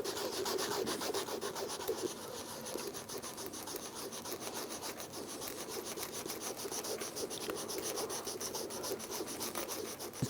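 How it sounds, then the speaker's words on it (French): Wet sandpaper rubbing over painted canvas with water, a steady, close scratchy rasping that continues evenly for the whole stretch with no pauses and no voices. "je fais ça au papier de verre et à l'eau"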